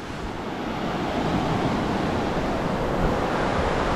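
Ocean waves wash onto a beach on Lombok, a steady loud roar of surf with wind, continuous and close, no voices.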